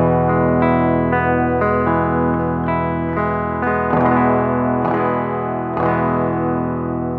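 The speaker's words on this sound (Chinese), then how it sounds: "让大家听一下电吉他最原始的声音的效果" A clean electric guitar plugged straight into a sound card with no effects plays a sequence of sustained notes and chords, each plucked attack ringing out clearly and decaying, dry and close, with no one speaking.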